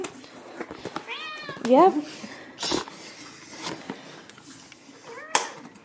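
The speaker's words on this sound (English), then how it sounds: "She's purring and screaming." A cat meows in several loud, rising yowls close by, while people talk quietly with sharp clatter and handling noises scattered between the cries.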